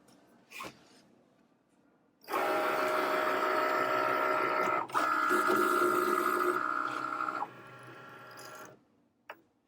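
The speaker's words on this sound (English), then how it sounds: "And now that this Cricut light is blinking, we can cut." A Cricut cutting machine slicing vinyl runs in a steady mechanical whir with a buzzing tone for several seconds, preceded by a click and ending with a short knock, close and fairly loud.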